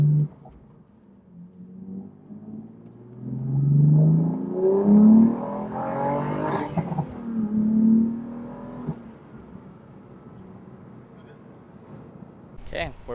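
A BMW M4 with a six-speed manual revs and pulls away, engine note rising and falling through a couple of strong surges, with people talking over it.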